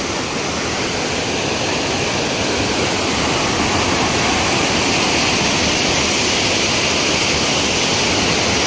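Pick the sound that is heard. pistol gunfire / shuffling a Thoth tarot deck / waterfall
waterfall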